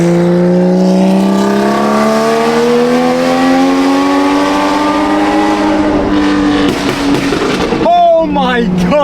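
A BMW M3 with a custom one-off exhaust revs loudly and climbs steadily in pitch, then crackles and bursts near the end, with voices reacting over the noise.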